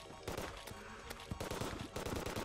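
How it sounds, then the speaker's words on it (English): Rapid bursts of gunfire from the video game Terraria, loud and dense, with sharp repeated shots in clusters over steady in-game background noise. "And then I can shoot."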